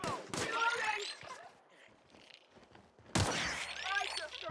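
Gunfire in The Outer Worlds video game: bursts of rapid shots open and close the moment, with a quieter gap between them and a voice speaking faintly.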